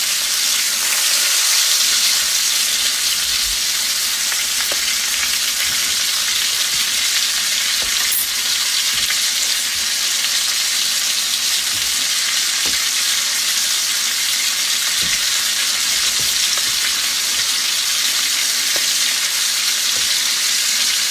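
Loud, steady sizzling of a pork roast frying in a hot pan, a continuous crackling hiss with occasional small pops, no talking.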